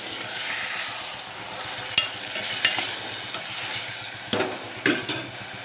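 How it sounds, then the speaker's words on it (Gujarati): Pigeon peas (tuvar) sizzle in a hot tempering, a soft, continuous frying hiss with a few sharp spoon clinks and scrapes spaced across the stretch. "મસ્ત મજાનો તુવેરના દાણાનો વઘાર થઈ ગયો છે"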